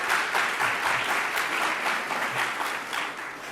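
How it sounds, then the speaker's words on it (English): An audience applauds New York Governor Kathy Hochul at a SUNY event, a full round of clapping from a crowd, strong at first and easing slightly toward the end, without talk. "Can we have another round of applause for the governor?"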